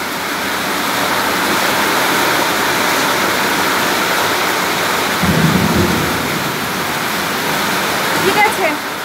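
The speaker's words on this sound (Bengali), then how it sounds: "টিনের ঘরে ঝমঝম ঝমঝম শব্দ হচ্ছে বৃষ্টি" Heavy rain pours onto a tin roof in a continuous dense roar, with a low rumble of thunder midway and a faint voice partly buried under the downpour.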